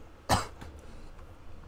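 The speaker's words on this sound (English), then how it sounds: "Sorry, I've got a bit of a cough going." A single sharp cough close by, followed by a quieter second hack, then near silence.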